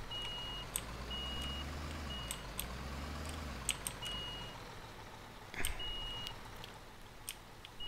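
Reversing beeps from a construction truck in Bau-Simulator 2015, a steady high repeating tone over a low engine rumble, with scattered clicks and a louder knock midway.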